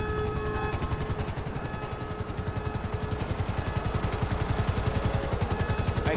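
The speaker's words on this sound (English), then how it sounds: "Helicopter inbound." In GTA 5 a helicopter arrives during a heist, its rotor giving a steady, rapid chop with a turbine whine over it. It stays at a moderate, constant distance throughout.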